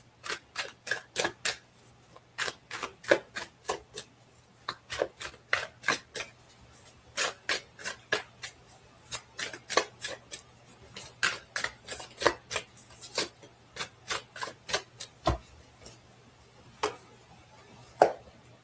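Tarot cards are handled and pulled in a long series of sharp, close clicks and snaps, evenly repeated with brief gaps, faint against a quiet room hum.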